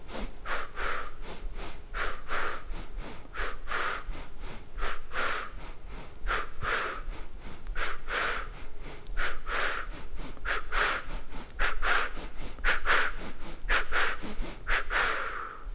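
Rapid, forceful nasal breathing in a Do In self-massage and energy exercise, a steady run of short sharp snort-like breaths repeated about every half second, close and alone with no talking.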